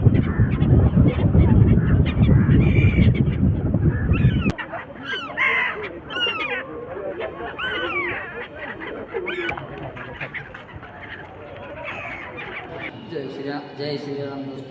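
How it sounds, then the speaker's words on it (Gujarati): Water birds gather on the water at Triveni Sangam in Somnath; heavy wind noise gives way to a chorus of honking, cawing calls, some near and some farther off, with voices faintly in the background. "આ પક્ષી પાણીમાં જે તરી રહ્યા છે."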